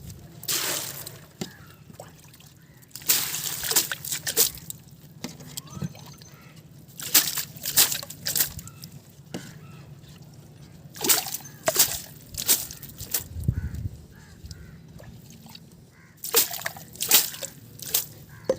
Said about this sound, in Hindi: मैं अपने डोंगिया के सिंगाड़ों को थोड़ा चमकदार करता हूँ और इस पर छिड़कता हूँ थोड़ा सा पानी।